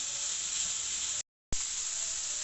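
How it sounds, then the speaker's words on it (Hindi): Minced meat (keema) frying with spices for samosa filling gives a steady, loud broadband sizzle, cut by a brief silent gap midway before resuming at the same level. "अब मसालों को अच्छे से मिक्स करेंगे और मसालों के साथ कीमे की भुनाई करेंगे।"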